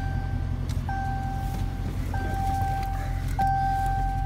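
A 2015 Dodge Challenger R/T Scat Pack Shaker engine idles with a steady low rumble throughout, while a repeating electronic chime rings out at intervals over it.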